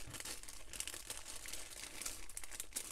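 Close crinkling and crumpling of a faded plastic bag holding pike fishing lures, a steady rustle with sharper crackles, handled continuously for a few seconds with no talk.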